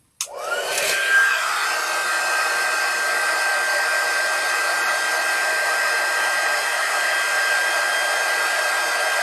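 A hair dryer switches on with a click and a rising whine, then blows steadily and loudly for several seconds to dry paint on a Frankenstein figure craft, with no voices.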